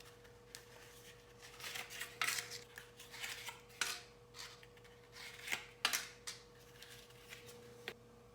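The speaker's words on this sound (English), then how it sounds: "And then I'm going to prepare my muffin tin by putting in the liners." Paper muffin liners being placed into a metal muffin tin, heard as soft crinkles and light taps in scattered bursts, close and fairly quiet, with no talking.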